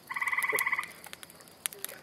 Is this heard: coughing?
no